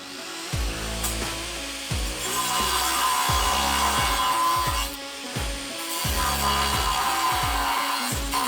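Steel piece being cut for a DIY winch bumper, with repeated loud grinding passes that start and stop in strokes of about a second each, close and harsh with a high metallic hiss.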